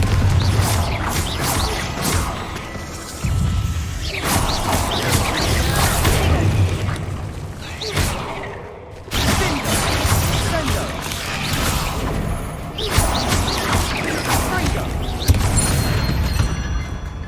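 In the video game Hogwarts Legacy, the Confringo fire-blast spell goes off in repeated loud booming bursts and whooshes, separated by short lulls amid game effects.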